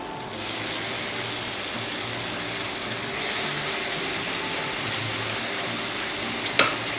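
Masala added to pink, fragrant fried onions in a hot pan, giving a dense, steady sizzle and hiss that swells slightly, close and alone, with one brief clink near the end.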